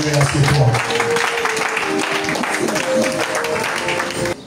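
A church congregation applauds and cheers throughout, a loud, dense wash of clapping mixed with voices calling out during a sermon.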